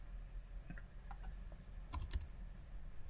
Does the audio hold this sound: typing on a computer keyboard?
yes